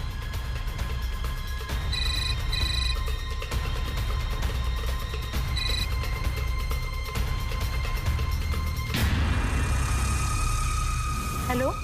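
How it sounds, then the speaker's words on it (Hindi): Telephone ringing, two short double-trill bursts of an electronic ring set well apart, followed by a dramatic swell of background music. "जिमी, अनुष्का, फोन उठा।"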